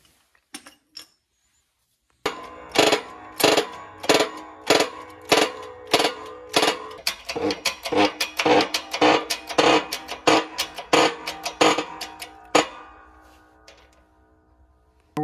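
New bearings being pressed onto a Polaris Ranger 800 XP transaxle shaft: a steady run of about twenty loud, sharp metallic knocks and clanks in close succession, preceded by brief quiet.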